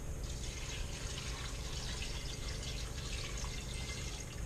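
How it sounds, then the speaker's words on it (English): Water is poured into a Power Pressure Cooker pot as a faint, steady trickle and splash, quiet and continuous with no talking. "I'm going to put some water in there."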